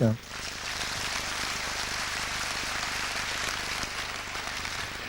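Steady, dense applause from an audience at an apprenticeship awards ceremony in Tours, following a brief voice at the start and holding at an even level throughout.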